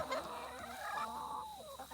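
A rooster clucks and calls repeatedly, fairly close, with nasal rising and falling notes over a soft outdoor background.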